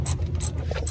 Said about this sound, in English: Just taking off the perf muffler.